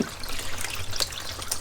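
Fluid drains and splashes out from beneath a Mercedes C209 CLK280 during a service, a steady close trickling pour with brief splatter bursts.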